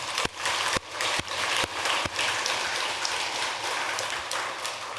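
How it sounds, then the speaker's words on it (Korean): An audience at a Korean Buddhist temple dharma talk breaks into broad applause, a steady wash of clapping with a few sharper individual claps standing out at the start. "크게 박수 한번 주"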